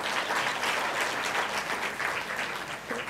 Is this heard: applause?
yes